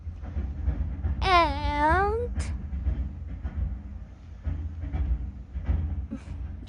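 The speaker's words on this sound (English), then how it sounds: "I took the subway." Toronto subway train running, a steady low rumble and rattle of wheels throughout, with a brief rising and falling electric motor whine near the start and a voice speaking once.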